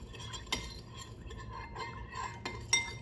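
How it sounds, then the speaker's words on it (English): Spoon stirring sugar into hot coffee in a cup, giving light clinks and scraping against the sides, close and quiet, several distinct taps over a few seconds. "I'm going to stir until it is dissolved."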